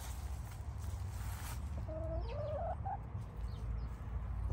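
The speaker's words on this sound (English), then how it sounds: "Our chickens have been laying eggs for us, average of 4 to 6 a day." A few soft chicken clucks and short calls rise briefly over a steady low background hum, fairly faint and close by.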